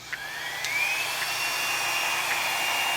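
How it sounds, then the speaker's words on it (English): A handheld blow dryer pushes acrylic paint across a canvas in a Dutch pour, producing a steady, close motor whine with a high tone that rises slightly as it starts, then holds, with no talk over it. "Wherever you move that blow dryer is where that paint's going to go."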